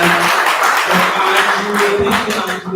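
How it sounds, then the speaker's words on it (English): Audience applause for the speakers at the GSAHW Ghana Pavilion 2024 event, a steady wash of clapping throughout with a voice speaking over it. "Can we all just give a round of applause to our speakers?"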